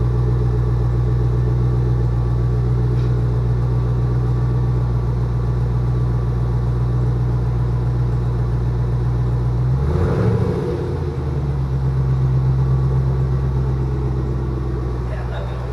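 Firebird fitted with a Hooker BlackHeart 2.5-inch true dual axle-back exhaust, idling with a steady deep rumble, then a single short light rev about two-thirds through before settling back to idle; a voice speaks briefly.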